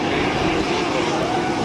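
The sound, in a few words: Sherpa propeller airplane landing with reverse thrust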